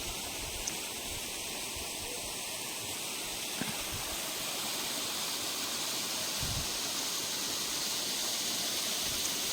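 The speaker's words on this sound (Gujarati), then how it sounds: "અહીંથી ઉપરથી પાણીનો ધોધ પડે છે" A waterfall pours down from above into a large pond-like pool at Kedariya village in Gujarat. It makes a constant, even rushing hiss that carries on alone for the whole stretch, soft and somewhat distant.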